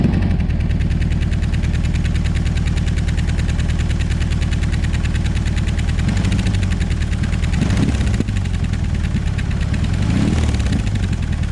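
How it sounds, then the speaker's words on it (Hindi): A stock BMW R18 Transcontinental motorcycle idling close by, its big boxer engine throbbing steadily through the exhaust with a deep, lumpy pulse and a couple of brief blips of revs near the end. "I can safely say it's one of the nicest sounding exhaust notes I've heard in a stock bike."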